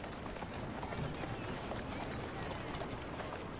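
Horse hooves clip-clop at a run in Assassin's Creed Syndicate, a steady rapid patter of hoofbeats mixed with rumbling carriage-like noise, continuous and fairly close.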